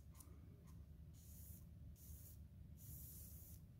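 Air hisses faintly from a tiny hole in a tubeless scooter tyre on a NIU KQi2 Pro, with several short, soft bursts of hiss over a low background rumble and no talk.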